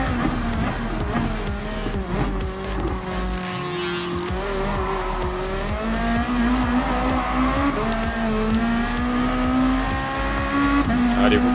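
Racing car in Gran Turismo Sport during a Japanese GT championship race, engine revving loudly with rising and falling pitch and tyres squealing through corners, heard up close.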